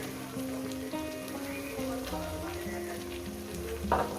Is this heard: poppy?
yes